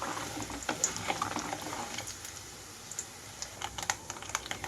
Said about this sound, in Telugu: అలాగే ఆవాలు వేసి వేయించుకుంటున్నాను